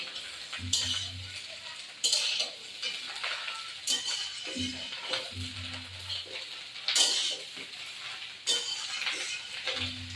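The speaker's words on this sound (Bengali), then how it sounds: "এবার আমি পটল আলুটা দিয়ে দেবো, ভাজা পটল আলুটা দিয়ে দিই মাছে দিয়ে একটু ভালো করে নাড়িয়ে ছাড়বো" Fish roe with fried potato and pointed gourd being stirred in a sizzling pan, with repeated scraping and clinking strokes of a utensil at close range over a steady frying hiss.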